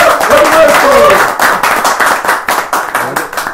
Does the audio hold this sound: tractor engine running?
no